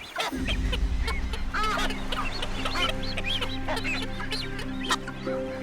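Soft, low calls and honking murmurs from several courting seabirds overlap continuously, with occasional higher squawks, nearby and moderately loud.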